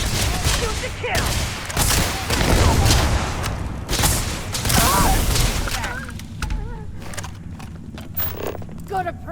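Heavy gunfire in Starfield, a loud sustained volley of shots and impacts through the first half that thins into scattered bursts, with voices shouting over the combat.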